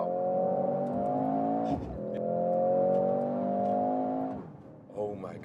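Mercedes-AMG GLC63 SUV engine under way, a strong sustained drone that rises in pitch, dips briefly at a gear change, then climbs again, loud and close inside the cabin.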